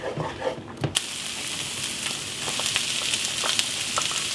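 Onion sizzling in melted butter in a pan, with lentils to follow: a steady crackling fry with a few stirring clinks and a sharp knock near the start, close and moderately loud, no talking.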